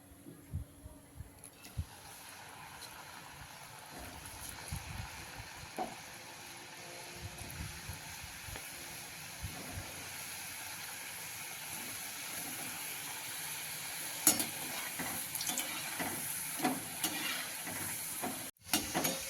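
Traditional jaggery gadgil fritters fry in hot oil, giving a steady, close sizzling hiss with scattered pops and crackles that builds slightly over about twenty seconds.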